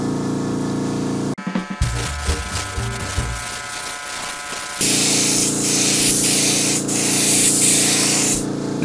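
An airbrush-style paint sprayer hisses in steady bursts while coating a 3D printed king cobra model, loud and close, briefly cutting off before resuming in a broader continuous spray.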